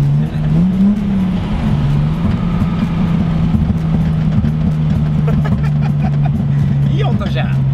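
A Datsun 240Z engine idles with a rough, rattly exhaust burble from the rear muffler, while people talk over it.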